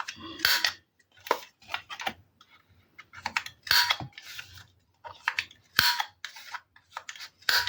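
Sharp, closely miked snips of scissors trimming the corners of paper artist trading cards, about a dozen crisp cuts in irregular bursts, some doubled, with soft handling rustle between them and no talking.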